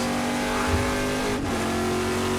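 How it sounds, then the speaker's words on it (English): Onboard a Trans Am Ford Mustang race car lapping Laguna Seca, the V8 engine roars loud and steady at high revs, with a brief dip and recovery around a gear change and no talk over it. "on board now with Troy Ermish, Ermish Racing Ford Mustang"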